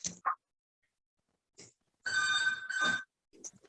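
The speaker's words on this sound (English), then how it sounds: "The phone's ringing." A telephone bell rings in two short bursts separated by a brief gap, following a few faint clicks and knocks, loud and close in a quiet room.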